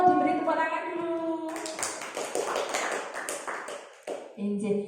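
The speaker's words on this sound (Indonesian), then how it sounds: "Monggo diberi tepuk tangan dulu." Audience clapping at a school teachers' session, a scattered patter of hands breaking in after a tonal voice or music passage, with speech-like sounds mixed in and the clapping fading before a voice resumes.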